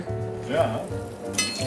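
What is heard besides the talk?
breaded risotto balls frying in a pan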